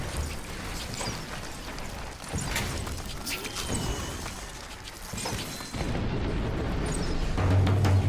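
Heavy artillery thuds and blasts from the Lost Launcher in Battleforge, several booms and mechanical clanks within a continuous battle din, rising in loudness toward the end.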